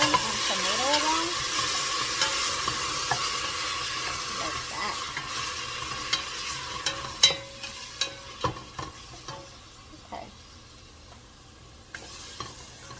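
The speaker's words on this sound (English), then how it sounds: "So you want to stir that onion and tomato around." Onion and tomato sizzle softly in a frying pan while being stirred, with a steady hiss and scattered scraping taps of a utensil against the pan, fairly quiet and close.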